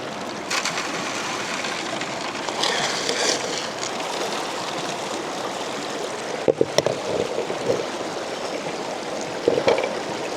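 Stream water rushes steadily through a gold sluice box at a Colorado digging site, a constant close wash of turbulent flow with occasional splashes and knocks.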